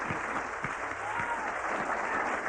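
An audience at a jazz concert applauds in a steady, dense wash of clapping that holds evenly for a couple of seconds.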